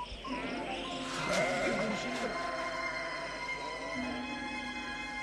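A flock of sheep guarded by shepherds at night gives several drawn-out bleats, heard close and clear beneath a voice that keeps narrating throughout.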